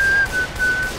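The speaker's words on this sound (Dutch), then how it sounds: "Niet fluiten!" A person whistles three short, clear notes in close succession, steady in pitch, near and alone with no talk.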